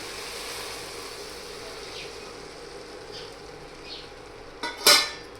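Roti noodles made from leftover flatbread being stirred in a pan with a splash of water, giving a steady low sizzle and scraping throughout, ending in a couple of sharp utensil clinks near the close.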